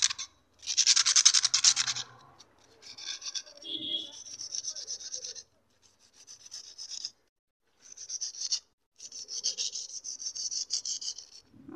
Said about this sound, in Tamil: அதோட மேலேயும் நான் கொஞ்சம் தேய்ச்சிக்கிறேன்